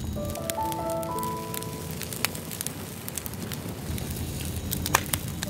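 Wood crackles and pops in an outdoor campfire on an evening, with a steady low hiss of burning under sharp scattered snaps, close and alone.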